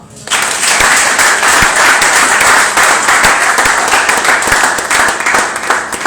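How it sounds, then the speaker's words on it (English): An audience claps together at a financial launch event, a dense, steady wash of hand claps that starts abruptly and holds loud and even for about six seconds. "Can't you clap for that person?"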